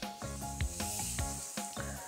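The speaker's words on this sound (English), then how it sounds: "And you want to hear that sizzle when cooking." An oiled, marinated fish fillet hits a hot grill and sizzles with a close, steady hiss that runs through the short moment, broken by a few soft clicks and bumps.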